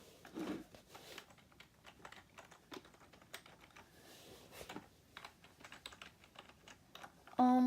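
Keys tapped on an ARES E1 gaming keyboard, scattered close clicks in uneven bursts, ending with a brief electronic beep.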